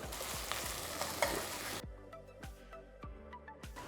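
Small tomatoes are sautéed with coriander and mint in a pan for brinji rice, giving a dense frying sizzle that fades away partway through, while a utensil stirs and scrapes the pan in steady repeated strokes.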